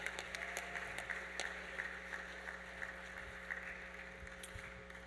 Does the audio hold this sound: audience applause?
yes